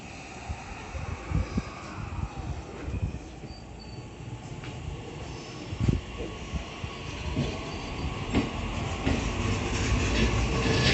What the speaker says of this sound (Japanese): 発車いたします。